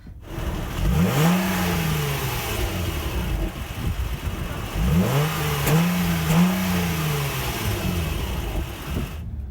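A Honda Pilot SUV's engine revs up twice from idle, each rise climbing smoothly in pitch before settling back, heard close and steady with no voices.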